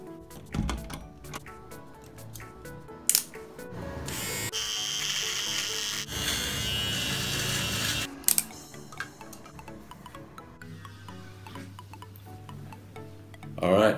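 An electric razor trims a beard, its steady buzzing hum running for several seconds amid handling clicks and knocks, with a lower-pitched motor drone near the end.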